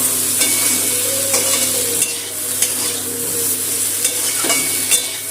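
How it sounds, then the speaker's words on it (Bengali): Okra stir-fried with ground chili, Kashmiri chili, cumin, coriander powder and sugar in a pan over medium flame: steady close sizzle with a scraping spatula stroke about once a second, no voices. "এই গুঁড়ো মশলাটা দিয়ে ঢেঁড়সের সাথে একটু কষিয়ে নেব।"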